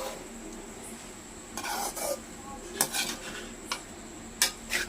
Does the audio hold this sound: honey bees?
no